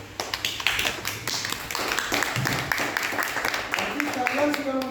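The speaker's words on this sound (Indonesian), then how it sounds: "Mari kita tepuk tangan untuk jawaban dari kelompok 2." A classroom group claps for another group's answer, a dense patter of many hands tapping rapidly and unevenly at moderate loudness, with a teacher's voice talking over it.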